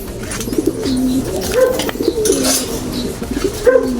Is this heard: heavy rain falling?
no